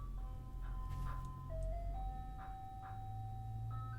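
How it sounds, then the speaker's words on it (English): A parked ice cream truck's chiming tune plays faintly at a distance over a low engine rumble, the melody stepping through a few sustained notes. "Do you see that ice cream truck?"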